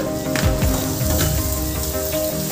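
Grated beetroot hitting onions frying in a pan on a medium flame, with a steady close sizzle and a few stirring scrapes over a continuous tonal background.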